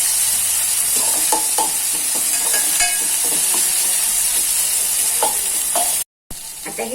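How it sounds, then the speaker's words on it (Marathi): Tomato puree poured into a frying masala of turmeric and chili for palak paneer, sizzling and hissing steadily while a spoon scrapes and stirs the pan, close and continuous with a brief cut near the end. "आता टाकूया ही प्युरी."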